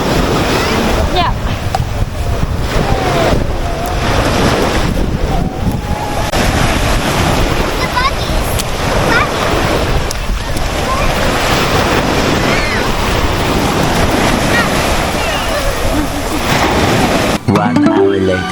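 Surf washing steadily onto a sandy beach with wind buffeting the microphone, a constant broadband wash lasting throughout, with a few faint voices mixed in.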